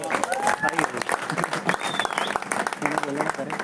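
Audience clapping at a company training event, a brisk, uneven patter of many hands with whoops and voices mixed in, speech running over the top.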